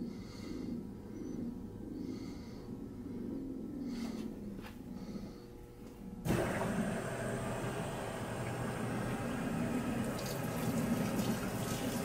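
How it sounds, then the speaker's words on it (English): A washing machine fills with water, starting with a sudden loud rush of pouring water about halfway through that then continues steadily, following quieter mechanical sounds, with no talk. "Now it's pouring the water."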